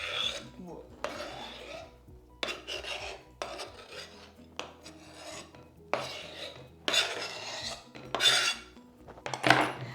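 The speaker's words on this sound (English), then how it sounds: "We're going to pop those into the bowl along with the juices." Big chopped tomatoes and their juices tipped into a bowl for a Tuscan panzanella salad, giving a series of wet, scraping and clattering bursts against the bowl.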